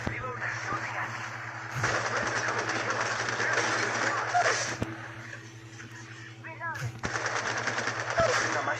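Rapid automatic gunfire from the mobile shooter Apex Legends Mobile, dense bursts of rattling shots over a steady game hum, with speech heard at times.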